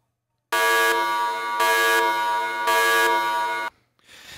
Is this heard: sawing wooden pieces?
no